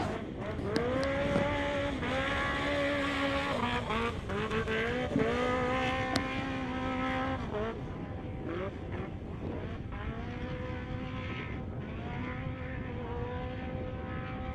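An off-road race car in NORRA Baja qualifying revs hard over a ski-jump, its engine whining in rising and falling bursts at moderate distance, with faint crackles and a fading drone toward the end.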